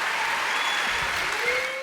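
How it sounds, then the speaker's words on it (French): An audience at an award ceremony breaks into steady applause, a dense, even patter of many hands clapping throughout, with no voices standing out. "on peut les applaudir très fort."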